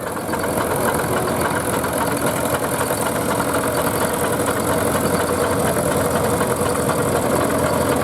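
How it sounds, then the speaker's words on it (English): A shiny steam ploughing engine runs at a steam rally, giving a steady, dense mechanical churn and hiss that stays loud and unchanging from start to finish with no pauses. "Now there's a nice shiny ploughing engine."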